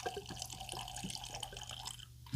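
Very Old Barton bourbon pours from a 1.75-liter plastic bottle, a quiet liquid trickle and drips heard close and alone at low level.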